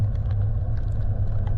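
A 4x4 vehicle driving up a hilly track in the rain, heard as a steady low engine rumble from inside the cabin with faint higher ticks, close and continuous, no voices.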